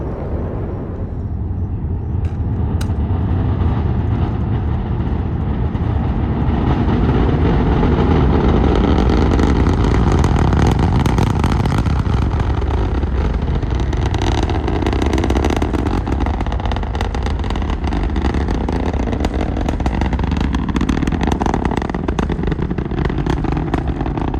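A loud, continuous roaring rumble with crackling texture from a Falcon 9 rocket's nine Merlin engines at launch at Cape Canaveral, Florida, sustained and powerful throughout, thundering at close range.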